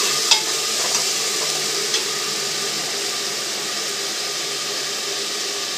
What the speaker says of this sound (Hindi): अब हम इसमें एक चम्मच लहसुन का और अदरक का पेस्ट डाल देंगे और 2 चम्मच प्याज का पेस्ट। थोड़ा सा भूनेंगे।